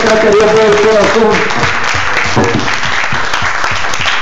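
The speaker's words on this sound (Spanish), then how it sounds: "Un aplauso al Señor" A church congregation bursts into loud, sustained applause that fills the room, dense clapping with a voice briefly audible over it at the start.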